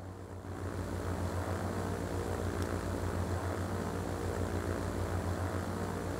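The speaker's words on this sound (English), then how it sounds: "Let's hope this plane will make it to its destination." A propeller airplane flies in the video game Transport Fever 2, giving a steady, loud engine drone with a constant buzzing hum that holds without a break.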